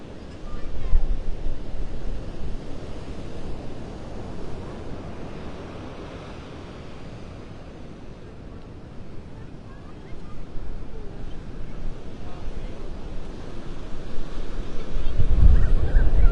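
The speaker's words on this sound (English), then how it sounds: "that wind is really getting strong too" Strong wind from Hurricane Helene buffets the microphone at Vanderbilt Beach in North Naples, Florida, with steady surf rumbling underneath, gusts rising and falling and growing louder near the end, no one speaking.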